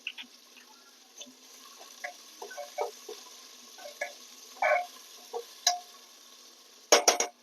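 Vegetables and cashews sautéing in a pressure cooker for veg pulao: a faint sizzle under scattered scraping taps of a stirring spoon, with a louder clatter of clicks near the end.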